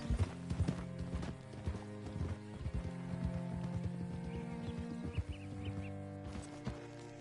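Horse hooves clip-clop steadily at a walking pace in Red Dead Redemption 2, a close, even rhythm over a bed of game music and ambience, with a brief whinny-like sound.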